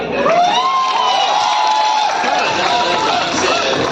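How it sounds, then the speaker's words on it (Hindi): A crowd of students at a coaching institute in Allahabad cheers and whoops, with shouting voices and some clapping mixed in, loud and close throughout. "भाई सबसे पहले तो तुम लोग अपने लिए ताली बजा लो।"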